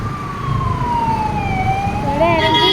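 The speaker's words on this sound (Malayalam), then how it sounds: "ഇവിടെ ആണെങ്കിൽ ഇപ്പം ആംബുലൻസ് വരുന്നുണ്ട്" An ambulance siren at night near a church in a residential Kerala neighbourhood, a loud, close wail sweeping steadily down and up in pitch over low traffic rumble.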